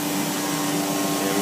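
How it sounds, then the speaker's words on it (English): A CNC machine's vacuum pump runs steadily, a loud continuous hum with a strong tonal drone, sustained and unbroken from start to finish. "there's the vacuum pump."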